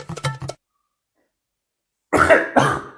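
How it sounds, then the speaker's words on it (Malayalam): Loud, harsh coughing from an adult at home, a quick burst of three or four hacks, then a pause of silence and two more heavy coughs close to the mic. "ഭയങ്കര ചുമക്കുന്നു"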